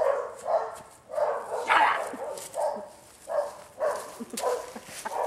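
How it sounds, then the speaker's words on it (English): A dog barks repeatedly in a loose rhythm of about seven moderately loud, medium-pitched barks spread over five seconds, with some yipping mixed in. "I hate canines."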